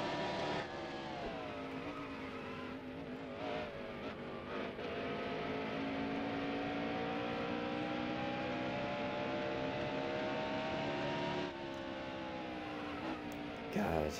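Stock car engine droning steadily at high revs around Richmond's short oval in NASCAR Heat Evolution, a continuous loud harmonic whine with slight pitch shifts through the lap and a brief dip near the end.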